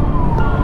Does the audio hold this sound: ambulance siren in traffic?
yes